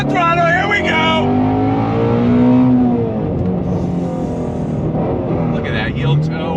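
A 2020 Shelby GT350R V8 pulling hard under throttle, its engine note climbing and rising in pitch through the revs, loud and close inside the car, with someone talking over it.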